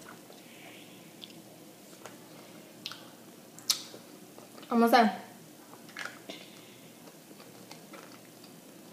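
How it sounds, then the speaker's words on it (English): Warheads sour candy crunched in the mouth, heard as faint clicks and soft chewing sounds followed by one louder, brief crunching burst near the middle, with a short spoken phrase in a quiet room. "Sounds like you're crunching it."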